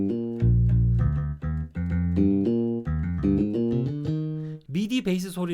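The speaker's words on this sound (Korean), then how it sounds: "미디 베이스 소리를 저장시켜 둔 거죠." A stored MIDI bass sound played on an AEROBAND smart guitar, with a string of deep, punchy bass notes in a steady run, close and prominent, ending in a brief burst of talk.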